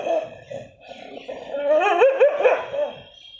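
A pet dog barks and yips close by in a short excited burst, with whiny howl-like tones rising toward the end.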